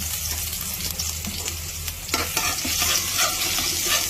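Garlic sautés in a hot pan with a bright, steady sizzle while a utensil stirs and scrapes, the frying swelling louder partway through; close and clear, no voices.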